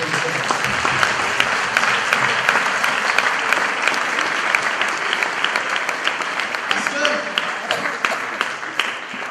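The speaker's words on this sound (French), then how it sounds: "On acclame le Seigneur pour sa parole." A church congregation in Orléans applauds the Lord, dense continuous clapping filling the space for the whole stretch, steady and loud with no pause.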